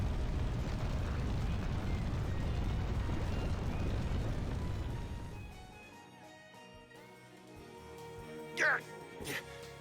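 Fire erupts everywhere in the video game Disgaea 6: a dense, loud roaring burst for about five seconds that dies away into quieter game sounds, with a couple of sharp effects near the end and a voice speaking.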